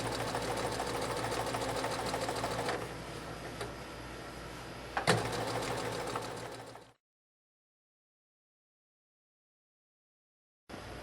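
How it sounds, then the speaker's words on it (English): A sewing machine stitches fabric for a baby sling in a fast, continuous mechanical whir with a brief knock partway through. It stops abruptly into silence, then starts again for a moment at the very end. "Then I'm going to continue sewing."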